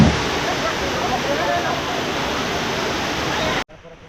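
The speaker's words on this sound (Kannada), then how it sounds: "ಅದು ಒಂದು ಬ್ಯೂಟಿಫುಲ್ ಫಾಲ್ಸು." Waterfall on the Nethravathi peak trek, a loud, steady, close rush of falling water filling the clip before cutting off abruptly near the end.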